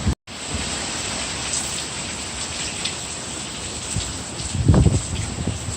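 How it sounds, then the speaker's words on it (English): Roaring, hissing wind from Hurricane Irma blows steadily close to the microphone, swelling into a heavier, rumbling gust near the end. "Okay, that gust of wind got me."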